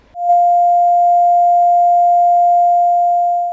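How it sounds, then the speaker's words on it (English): A pure sine wave tone sounds as a single steady, loud pitch, starting abruptly and holding unchanged for about three seconds with no other sound. "Here is an example of a sine wave, which sounds like this."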